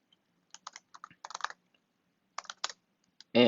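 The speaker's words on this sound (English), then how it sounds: "So I'm going to type in iMovie tutorial." A computer keyboard is tapped close by in short, sparse clusters of keystrokes with quiet gaps between them, and a voice begins right at the end.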